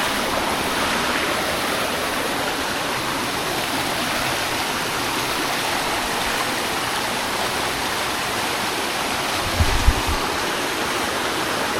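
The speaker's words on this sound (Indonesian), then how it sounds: "Kita lanjut mengecek aliran sungai." A river in Singkawang rushes steadily nearby, a continuous loud wash of flowing water with no voices.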